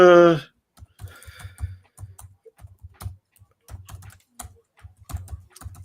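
Computer keyboard typing at close range, a steady run of quick clustered key clicks with short pauses, following a brief burst of voice at the start.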